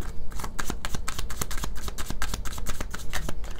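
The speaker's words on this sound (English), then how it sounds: "like you see how I'm trying to shuffle and my hand is stuck here" Tarot cards shuffled by hand, a rapid run of crisp papery riffles and slaps, close and continuous with no talking.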